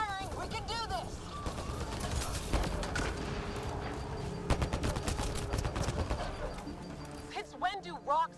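Gunfire in the video game Mass Effect: Andromeda: dense, rapid shots and bursts crackle through a chaotic firefight, mixed with shouted voices that come in at the start and end.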